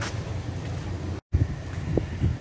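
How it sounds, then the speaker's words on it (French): Steady wind rumbles and buffets the microphone, with a brief dropout midway and low gusty thumps afterward. "il y a plus de vent vers notre hôtel que sur la plage"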